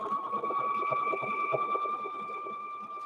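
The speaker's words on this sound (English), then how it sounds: "So we're going to stitch down right down the middle here." Sewing machine stitching down the middle of a quilted handbag with variegated thread, a continuous close motor whine with fast rhythmic needle pulses throughout.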